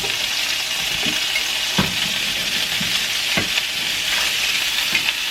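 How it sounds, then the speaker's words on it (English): Pieces of meat sear in a hot pan with a loud, steady sizzle close by, broken by a few soft knocks and scrapes of the pan, in a quick home dinner for two. "Now we're going to sear these on both sides for about 3 to 4 minutes"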